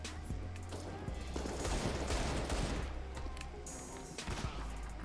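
Gunfire in Counter-Strike: Global Offensive, with Desert Eagle pistol shots mixed into a dense barrage of other weapons that keeps going through the whole stretch, loud and close.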